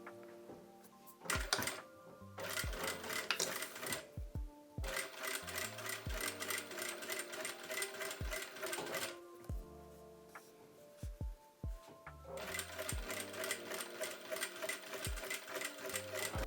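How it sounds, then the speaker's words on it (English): Sewing machine running a stitch line along the edge of a feather robe, rapid mechanical chatter in several bursts separated by brief stops, close and clear with no talking. "I'm gonna make a stitch 5 millimeters from the edge."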